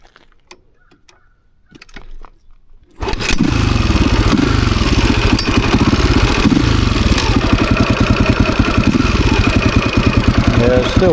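A dirt bike engine starts after some quiet fiddling and clicks, then runs loud and steady at a rough, pulsing idle close to the microphone for the rest of the clip.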